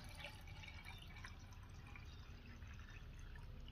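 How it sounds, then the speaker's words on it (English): Faint trickling and dripping of water running into a container, quiet and continuous with a soft hiss, no voices. "I'm going to fill this cup up with water."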